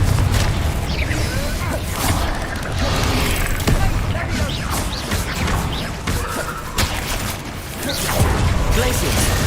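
Confringo blasting spell explosions amid ongoing combat in Hogwarts Legacy, a dense, continuous barrage of booms, crashes and impacts with no pause, loud and close throughout.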